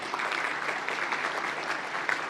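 Audience applauding graduates who have just been presented at a University of London presentation ceremony, a steady, dense wash of clapping holding at an even level throughout.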